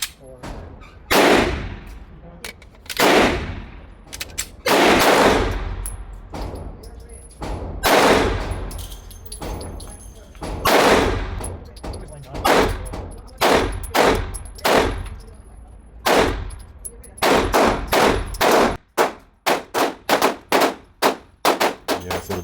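CZ P-10 C ported pistol fired at a range, loud sharp shots in spaced pairs and groups, then a fast string of rapid shots near the end, with a little talk in between.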